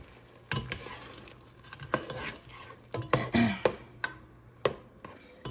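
A spoon stirs arroz con gandules, Spanish rice with pigeon peas, in a pot, with irregular scraping knocks against the pot over a soft, steady sizzle, close by and without talk.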